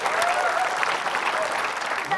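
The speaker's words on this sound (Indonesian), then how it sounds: "kita kasih tepuk tangan yuk" Studio audience applause on an Indonesian TV quiz show, a loud, dense roll of clapping that runs throughout, with a few voices and a faint tonal sound over it.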